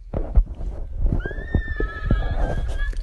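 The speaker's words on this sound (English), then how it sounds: "Oh, a horse. I did hear that." A horse whinnies with a long, high, wavering neigh, heard over low thumps and background movement nearby.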